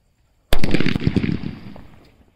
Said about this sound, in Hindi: दोनों के दोनों जो हमारे मीडियम साइज के बुलेट बम थे दोनों के दोनों बज चुके हैं